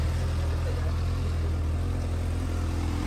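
Honda CB 600F Hornet motorcycle with a diffuser exhaust idling steadily, a continuous low throbbing engine note heard close up with no pauses or revs.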